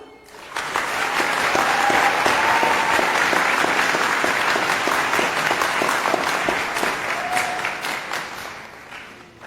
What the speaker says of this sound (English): Please give a resounding round of applause